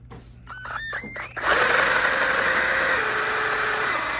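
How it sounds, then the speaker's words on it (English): A power drill spins up with a few short stuttering bursts, then runs continuously and loud while boring exhaust ports on a 1966 Ford Thunderbird, its pitch dropping slightly as it bites into the metal. "Drilling."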